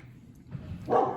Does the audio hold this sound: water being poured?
no